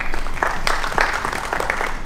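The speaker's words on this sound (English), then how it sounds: "Great round of applause for Devendra" A hall audience applauds an honoree at a Sikh film festival ceremony in Chandigarh with brisk, dense clapping that is loud and close and continues evenly throughout.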